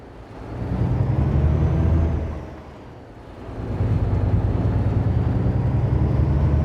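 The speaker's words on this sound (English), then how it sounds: "Rumble, the engine actually sounds quite good at low speed." A lorry's engine in Alaskan Road Truckers rumbles deep at low speed, swelling up, easing back briefly, then settling into a steady, loud, throbbing drone.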